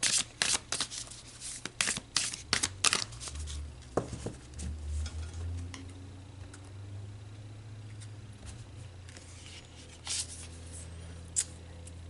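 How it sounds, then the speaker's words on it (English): Tarot cards are shuffled by hand, with a run of quick, close riffling slaps and flutters early on, then quieter handling and a few soft taps near the end. "So let's pull another card."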